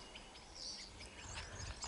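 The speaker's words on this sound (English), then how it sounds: "The birds are happy." Soft bird chirps and tweets scattered over a steady outdoor background hiss, faint and distant, with no talking.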